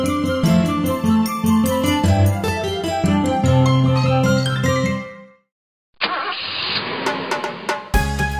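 A red family car arriving home, its engine rumbling up close for a couple of seconds after a cheerful tune ends and a short silence.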